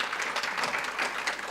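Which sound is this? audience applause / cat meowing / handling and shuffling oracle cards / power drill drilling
audience applause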